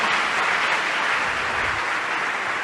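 Church congregation applauding in a continuous, even roar of clapping at a steady loudness from start to finish.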